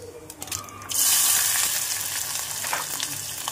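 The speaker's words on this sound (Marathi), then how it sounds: "ते चांगलं तडतडलं तर मी कांदा घालून घेते" Onion dropped into hot oil with mustard seeds and cumin in a home kitchen, the sizzle jumping to a loud, steady hiss after a quieter crackle of spluttering seeds, with no talking.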